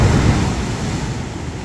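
Steady wash of sea surf rolling onto the beach at Sokcho, South Korea, a broad, constant rumble close by with some wind noise and no speech.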